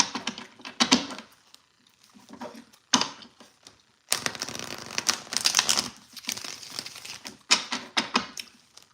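Tarot cards being shuffled by hand, close and crisp, in irregular bursts of riffling and papery flicking separated by brief pauses.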